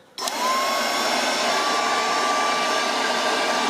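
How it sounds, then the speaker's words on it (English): A small SnapFresh cordless leaf blower switches on at its low setting and settles into a steady whooshing whine, running continuously at an even level. "Let's see how it sounds like. So we got two positions, let's go with the first one."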